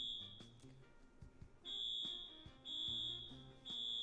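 Electronic alarm sounding in a home, sharp high-pitched beeps repeating about once a second, fairly faint, over light background knocks and clatter.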